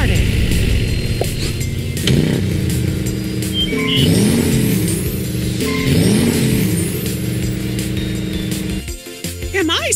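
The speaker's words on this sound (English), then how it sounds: "Let's get your car started." A cartoon car starting up in the Disney preschool game Mickey's Shape and Make Road Trip, a steady game engine rumble with cheerful music and sliding tones layered over it, then a sharp cutoff near the end.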